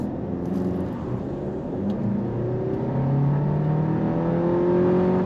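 Engine of a 2025 Volkswagen Tiguan heard from inside the cabin while driving, a steady moderate hum that rises in pitch as it accelerates, with no talking.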